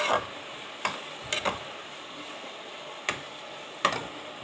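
Onions are stirred in a pan while they turn golden for a minced-meat zucchini tray bake, with a soft steady sizzle broken by several sharp scraping clicks from the spoon against the pan.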